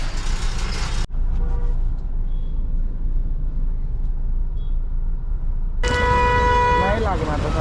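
A road traffic jam near Bhiwandi, with vehicles stalled behind broken-down trucks. Engine rumble runs throughout, with a brief honk in the middle and a loud sustained horn blast near the end.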